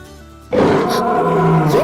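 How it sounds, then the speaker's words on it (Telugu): A loud, sustained tiger roar from a Telugu film comedy scene erupts suddenly after a quieter tonal lead-in, deep and rumbling, close and filling the space. "సార్ ఆ సౌండ్ పులి"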